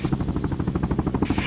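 A rescue helicopter in the video game Helicopter Simulator: Search & Rescue gives a close, steady rotor chop of rapid rhythmic pulses over a low engine drone.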